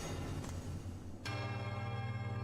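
A bell rings in Silksong, a bright sustained tone with a fresh strike at about the midpoint that lingers with a long ringing resonance, fairly faint and without voices.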